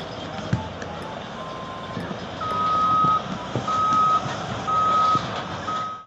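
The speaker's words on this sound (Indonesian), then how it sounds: "Di sini ada mobil truk tambang." Repeated steady electronic beeps from a reversing mining dump truck, sounding in regular bursts over a continuous engine rumble and background noise, fairly close.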